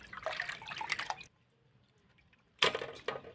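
Goat intestines squeezed and rinsed in a pot of water, giving wet squelching splashes and drips in a busy burst, a quiet pause, then another close splashing burst.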